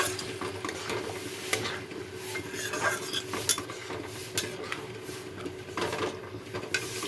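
Boiled chickpeas and white chickpeas being sautéed in a spiced masala, a soft ongoing sizzle broken by repeated scraping and clinking strokes of a spoon stirring against the pan.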